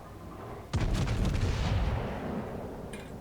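Warship turret salvo in World of Warships: a single sudden heavy boom of artillery fire, close and loud, followed by a long rumbling decay with no talk.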